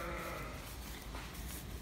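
Sheep bleat in a lambing shed where ewes and their newborn lambs are penned, a steady close bleating that runs without pause and with no talk.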